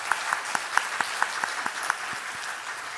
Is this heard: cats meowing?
no